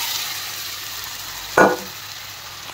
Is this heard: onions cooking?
yes